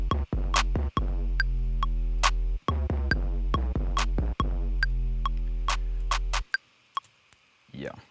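A humanized drum loop with slightly off-grid hi-hats plays in a steady groove of kick hits and crisp ticking hats, loud and close, cutting out near the end before a few faint ticks.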